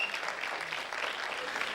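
A church congregation breaks into sustained applause during a sermon, dense, even clapping from many hands that fills the room, heard without speech.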